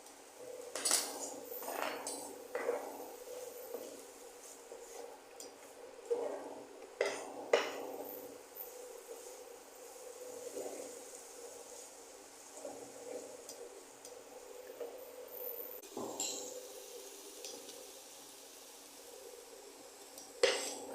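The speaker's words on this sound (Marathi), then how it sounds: "कोलंबी चांगली परतून घेऊया" Prawns sautéing in a pan, heard as steady scraping and clinking of a metal utensil against the pan with soft stirring, moderately close, with no talk over it.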